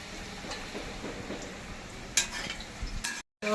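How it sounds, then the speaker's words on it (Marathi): Potatoes, plantains, sweet potatoes, eggplant and yams fry in oil for Surti undhiyu, with a soft low sizzle, a few clinks of a utensil and a brief cut to silence near the end. "बटाटे, केळी, रताळ, वांगी आणि कंद हे सगळं आता पण तळून घ्यायचं."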